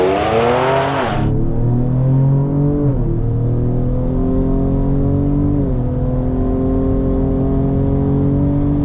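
A tuned Ford Explorer ST accelerates hard, its engine roaring loud and close and climbing in pitch, with a drop at each of two gear shifts before it pulls on again.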